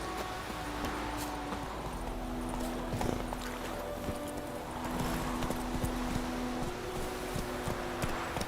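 Hooves of the horse Roach clip-clopping at a steady galloping rhythm in The Witcher 3, close and fairly quiet, set over a soft game ambience with faint tonal music.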